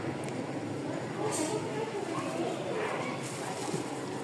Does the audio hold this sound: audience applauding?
no